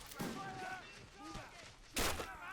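Musket fire crackles in a Men of War Assault Squad battle during a Continental Army assault on a British fort, with scattered shots striking a cannon, a chaotic volley that ends in a loud burst, mixed with voices and battle noise.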